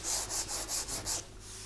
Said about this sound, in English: then I need a little more sanding